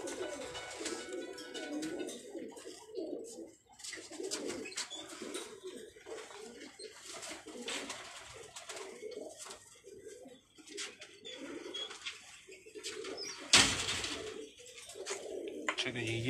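Pearl-spotted pigeons on a Karachi rooftop give soft, repeated throaty coos, close and moderate in level, with someone talking over them and light shuffling and patter throughout.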